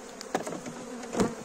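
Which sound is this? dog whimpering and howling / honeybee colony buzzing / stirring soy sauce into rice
honeybee colony buzzing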